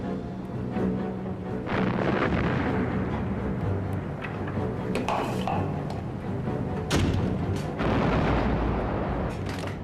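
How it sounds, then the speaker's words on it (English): Heavy naval gunfire from HMS Belfast's 6-inch guns in battle against the Scharnhorst: repeated booming blasts and rumbling detonations over a dense, continuous roar of combat noise, with sharper bursts near the middle and end. "Belfast's gunners loaded and fired hundreds of 6-inch shells"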